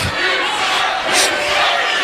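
Loud wrestling arena crowd shouting and jeering at a 2009 Sacrifice match, a dense roar of voices with a sharp burst of yelling near the middle.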